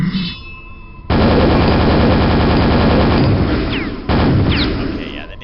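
Rapid, dense automatic firing of a nail gun in a first-person shooter during a charity gaming stream, loud and sustained for several seconds with brief breaks, a voice talking underneath.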